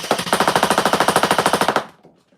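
Nerf toy blaster firing rapid full-auto at about 8 rounds a second, a close, loud string of evenly spaced mechanical thumps lasting under two seconds, then stopping with a faint mechanical tail.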